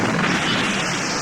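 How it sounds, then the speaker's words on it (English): A loud, sustained roar of a film explosion, a terrorist blast in the movie Brazil, filling the whole moment with dense rumbling noise and no voices. "A terrorist explosion occurs"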